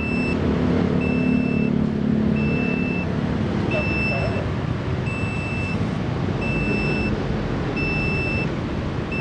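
A motorcycle tire pressure monitor gives repeated short electronic alert beeps in an even rhythm while a person talks over it nearby.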